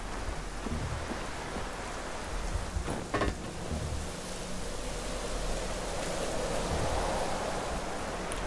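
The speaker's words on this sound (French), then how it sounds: "il pleut" Steady rain hisses continuously in the video game Generation Zero, with a soft rumble of distant thunder partway through and drops spattering on surfaces throughout.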